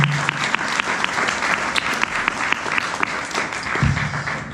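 Steady applause from an audience at an eco-label award ceremony in Barrême, with dense, even clapping that holds at a constant level from start to finish.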